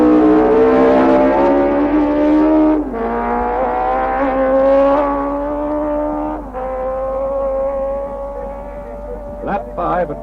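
John Surtees' MV Agusta four-cylinder racing motorcycle at the Isle of Man races, its high engine note holding and stepping down through gear changes with a rising rev near the end, over faint background noise.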